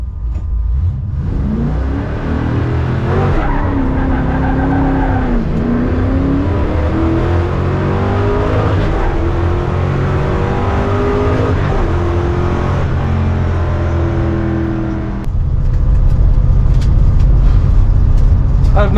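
A carbureted 1955 Chevy drag race car revs up and launches down the strip, its pitch climbing through gear changes before a final surge of heavy engine roar.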